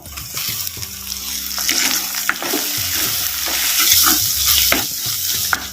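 Tomatoes and green chilies sizzle and scrape in a pan as they are stirred, with repeated clinks of a utensil and a steady frying hiss throughout.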